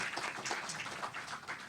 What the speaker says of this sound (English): Shall we give a big applause to her?